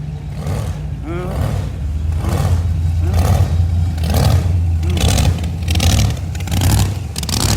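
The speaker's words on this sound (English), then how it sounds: "Somebody's got some cam and a blower." Street rod engine with a performance cam and supercharger blower at a street rod nationals car show, running steadily with a loping idle and periodic revs, close and loud throughout with crowd noise around it.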